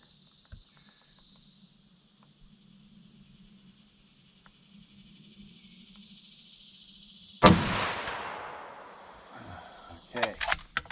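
A single loud gunshot from a 1915 SMLE No 1 Mk III rifle rings out at an outdoor range after a quiet hum, its report decaying over a few seconds before some shorter clatter and handling noise.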